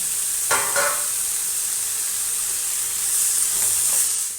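Green peas and masala frying in a pan with potatoes about to go in, a steady close hiss of sizzling oil, with a couple of scraping stirs near the start and again toward the end.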